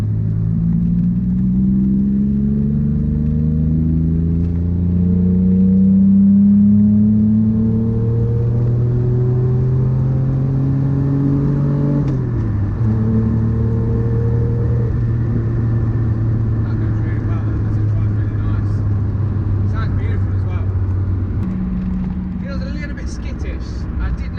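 Engine of a V6-powered Ferrari 288 GTO replica accelerating hard on an open road, rising through the gears with a steady loud drone, a shift near the middle, then a sustained lower roar.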